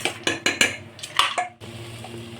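A spoon stirs pasta and other ingredients inside a metal pressure cooker, knocking and scraping against the pot in several quick clanks before a softer stretch, close by with no talk.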